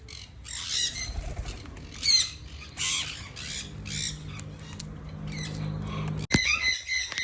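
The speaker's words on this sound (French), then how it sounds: "Il y a actuellement un perroquet sur mon téléphone." Several parrots perched on a person's hands, head and phone while travelling in Saint-Martin give harsh, close squawks in repeated bursts, mixed with flapping wings, a steady low hum and a sudden sharp bang near the end.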